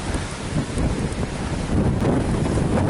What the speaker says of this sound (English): Welcome to this off-road stretch into the wind. So windy.